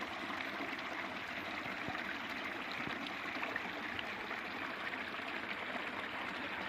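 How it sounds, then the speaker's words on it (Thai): A stream of water flows and trickles steadily, soft and constant, with no voices. "น้ำไหล"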